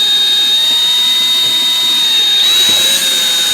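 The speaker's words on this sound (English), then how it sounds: "we're going to take this drill and we're going to drill through the next one." A power drill bores through a plastic mounting track on a fishing kayak, giving a loud, steady whine close by that shifts pitch near the end as the bit breaks through.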